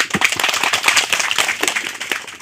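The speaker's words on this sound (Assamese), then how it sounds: "আপোনালোকে এবাৰ হাত চাপৰি মাৰি দিয়ক" A village primary school audience claps for the headmaster, with many hands beating in quick, uneven bursts, close and fairly loud, without letup.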